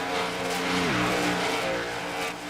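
A race car engine in a racing video game holds a loud, continuous high-pitched whine that dips sharply in pitch at a gear change, then climbs and settles again, with no talk over it.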